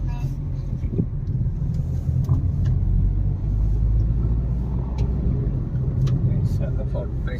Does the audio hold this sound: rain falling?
no